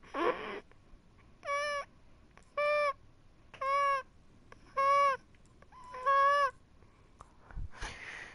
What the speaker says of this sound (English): Sounds like a goose, don't it?